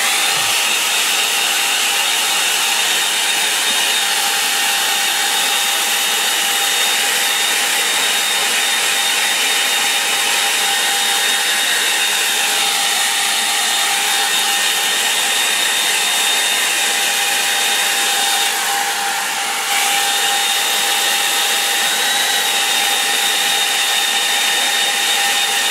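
A hair dryer blowing steadily on a watercolour painting, a continuous close whine and rush of air lasting the whole time with only a slight dip near the end.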